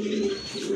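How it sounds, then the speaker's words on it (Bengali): Pigeons at a pigeon market cooing in a soft, low, continuous murmur, close by and without any talk. "এখন দেখতেছেন আপনার ব্ল্যাক কালারের ভিতরে আরেক জোড়া রাজগোল্লা কবুতর"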